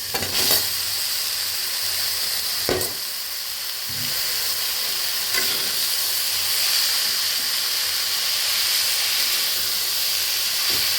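Red amaranth greens and garlic frying in oil in a pan over a gas flame, a loud, continuous hissing sizzle with a few sharp clicks and stirring scrapes, with no voices.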